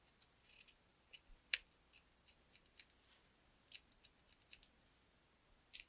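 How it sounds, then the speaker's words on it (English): Scissors trim yarn for a crocheted boho plant hanger with a series of crisp, quiet snips at an uneven pace, recorded close in an otherwise silent room. "Now I'm going to trim my yarn."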